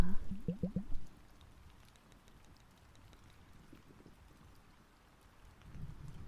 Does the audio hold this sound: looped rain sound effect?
yes